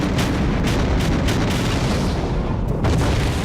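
An artillery battery fires five rounds of desert gunfire, a rapid series of heavy booms and blasts in quick succession over a constant rumbling roar.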